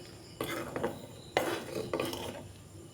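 A spoon stirs lemon pickle with chilli powder, cumin powder and oil in a pan, making repeated close scraping and clinking strokes against the metal with short pauses between them.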